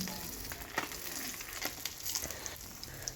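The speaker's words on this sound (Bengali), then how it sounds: "রুই মাছটাকে লবণ হলুদ মাখিয়ে রেখেছিলাম তো ভেজে নিচ্ছি" Rohu fish pieces rubbed with salt and turmeric fry in hot oil in a pan, giving a steady, fairly soft sizzle with a few faint pops and crackles.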